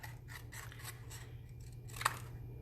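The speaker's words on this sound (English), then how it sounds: "So now I'm going to trim from this corner to that back corner." Scissors snip through a paper card box corner, several quiet close cuts and rustles with one sharper snip near the end, no talk.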